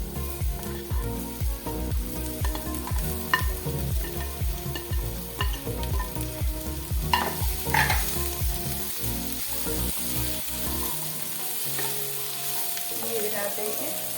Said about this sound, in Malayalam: ഇനി നമുക്ക് ഇതിനകത്തേക്ക് ഈ മുരിങ്ങക്ക അരിഞ്ഞു വെച്ചതും കൂടെ ചേർത്ത് കൊടുക്കും